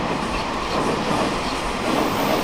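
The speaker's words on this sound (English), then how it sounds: "As another train is passing through Houtong." A train rolls past at Houtong station in lush northeastern Taiwan, a steady loud rumble of wheels and carriages filling the whole moment, close by with no talk.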